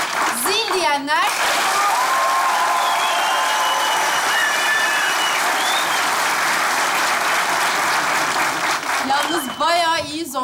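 Studio audience applause on a Turkish TV comedy sketch show fills the whole stretch, loud and steady, with brief talk at the start and end and some whistles over the clapping.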